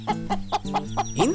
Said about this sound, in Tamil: இந்த வீட்டுல ஏகப்பட்ட கோழிகள் இருக்கும் போல இருக்குதே